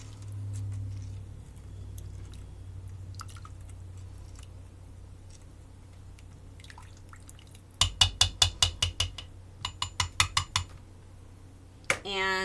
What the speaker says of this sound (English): I'm going to mix it really well